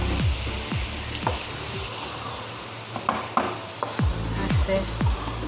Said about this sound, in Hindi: अब इसमें मैंने भिंडियाँ ऐड कर दी हैं और इसे चम्मच से अच्छी तरह मिक्स कर लेना है